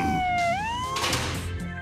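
Police car siren wailing close and loud, its pitch sweeping down then up in a single rising and falling cycle, with a burst of noise and rumble underneath.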